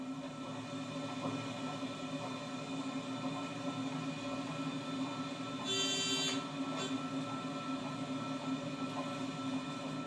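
Belgian electric locomotive BB 1191 runs steadily on its way out of a tunnel on a 28-per-thousand ramp, heard as a constant low rumble and drone with a brief high electric whine partway through.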